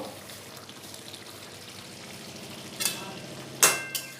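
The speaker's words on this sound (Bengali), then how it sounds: "দিয়ে মিশিয়ে নেব, দিয়ে আরও কিছুক্ষণ কষাবো।" Chicken being sautéed with kasuri methi gives a steady, moderate sizzle in a pan, broken near the end by a few sharp clanks and scrapes of a spatula stirring.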